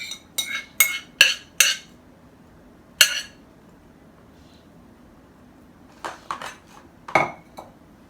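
A spoon clinks against a dish while strawberry gelatin mixture is spooned over cream cheese filling: quick runs of bright taps, a pause with near silence, then another cluster of clinks and scrapes.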